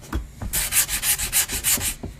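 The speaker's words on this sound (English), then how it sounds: "we are sanding all the white from it that you can see" Sandpaper, 120 grit, scratching back and forth over a white-painted surface in a steady rhythm, about eight quick strokes, close and fairly loud.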